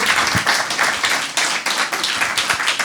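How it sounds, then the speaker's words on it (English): Audience applause after a talk at a creative community event, steady clapping from a modest group close by for a few seconds. "So can we give Provhat a round of applause, please?"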